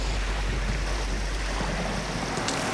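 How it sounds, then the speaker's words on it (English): Wind gusts and choppy water slap around a kayak out on the water, a loud, dense rush that fills the whole moment with no voices. "The wind is picking up, and the water's getting really choppy."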